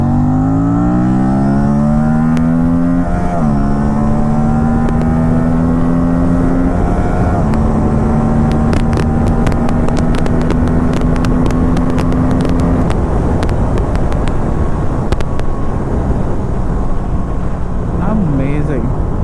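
RS 457 motorcycle engine accelerating, a loud rising drone that climbs through gears with brief shifts, under wind noise and intermittent talk.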